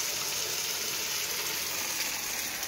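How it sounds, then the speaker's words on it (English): Eggs frying in hot bacon grease in a pan: a steady, dense, even sizzle that holds at the same level throughout, with no talking over it. "now we're just gonna dump the eggs in here. We're gonna cook it in the bacon grease."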